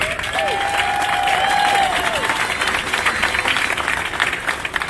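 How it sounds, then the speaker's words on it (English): A rally crowd outside the Oregon State Capitol in Salem breaks into a loud, sustained round of applause with some cheering, steady for several seconds, a few whistle-like tones rising above it. "Give yourself a round of applause."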